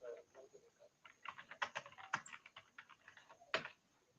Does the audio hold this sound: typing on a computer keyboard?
yes